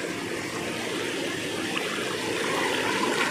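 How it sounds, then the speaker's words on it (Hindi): Water rushing through a shallow forest stream in Jhiram forest, Sukma, as people wade across it; a steady, broad wash of flowing water, close by and continuous, with no talk. "हम लोग अभी नाला पार कर रहे हैं, नाले में पानी कितना है आप लोग देख सकते हो"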